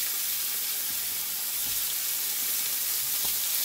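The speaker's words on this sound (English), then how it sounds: "So with the legs and the wings, I'm aiming more to seal them off" Chicken legs and wings sear in a hot pan, a continuous close sizzle with a few soft low knocks from turning pieces, no voices.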